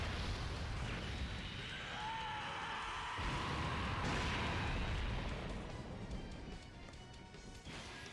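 Gamma 2's core breaker sacrifice attack in the Dokkan Battle video game erupts into a long, heavy explosion with crashing, booming impacts and rumbling layers, loud throughout before easing slightly at the end.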